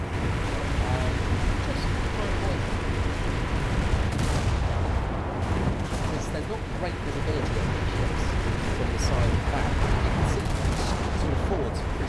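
Naval gunfire from warships in War Thunder, with gun blasts and artillery booms over steady ocean surf and ship noise, loud and continuous throughout.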